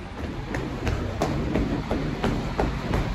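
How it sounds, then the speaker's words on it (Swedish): A Stockholm metro train rolls along, its steady rumble broken by regular rhythmic clacks from the wheels passing rail joints, heard from inside the car. "Okej, okay, så har vi hoppat på det här tåget."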